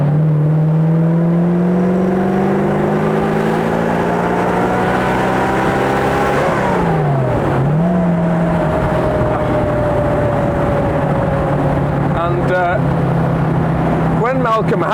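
A vintage Blower Bentley racing car's engine droning loudly, its pitch climbing steadily before dropping sharply and rising again as it changes down to second gear, then settling into a smooth, sustained drone; no talking.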